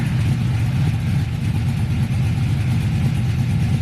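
2000 Chevrolet Silverado engine idling with the hood closed, a steady low rumble with an even, unbroken drone at a loud close level.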